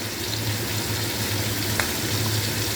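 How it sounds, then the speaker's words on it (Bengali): Steady close sizzle of black cumin seeds (kalonji) frying in hot oil in a pan with vegetables, with a low hum underneath and one brief tap partway through, no talking. "একটু কালো জিরে দিয়ে দিচ্ছি"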